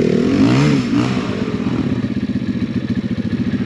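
An Apollo Chinese dirt bike ridden hard off-road in the bush, its engine revving loudly up close, then settling into a rapid, pulsing chug as the throttle holds.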